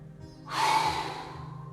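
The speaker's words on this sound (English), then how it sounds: "big breath in through the nose" One deep, steady inhale drawn in through the nose during a flexibility exercise session, close to the mic, rising quickly and then tapering off over a faint low hum.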